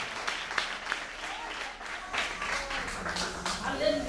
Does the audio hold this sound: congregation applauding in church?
yes